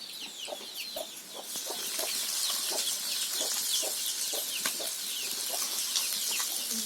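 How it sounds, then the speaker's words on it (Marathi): Hens cluck repeatedly around a Maharashtrian home kitchen in Alibag, short clucks and calls scattered over a steady bright background, fairly close, with no talking. "मधीच कोंबडी येतात आहेत ना."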